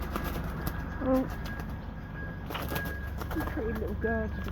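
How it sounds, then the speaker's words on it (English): A pigeon coos a few times near a village church and cottages, soft throaty calls that rise above steady outdoor background noise and a low rumble. "Stupid pigeon, stop."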